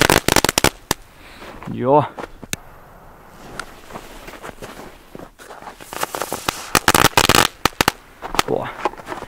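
Firecrackers including crackle balls and pyro crackers burst in rapid, loud, uneven volleys of sharp bangs and crackling, some close and some spread out, with people talking and exclaiming in between.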